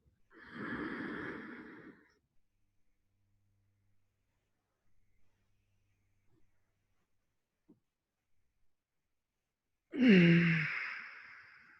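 Deep breathing during tummo meditation: one long, slow, audible exhale at the start, a long near-silent pause, then another strong, breathy inhale with a snort-like rasp near the end, close and alone.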